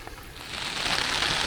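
Heavy rain pours down in Fukuoka, Japan, a dense, steady hiss that swells slightly louder over a second and a half, with no voices.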